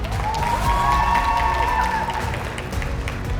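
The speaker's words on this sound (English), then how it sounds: "Round of applause." A crowd applauds steadily and loudly throughout at a graduation ceremony, with a faint tonal hum or feedback running underneath.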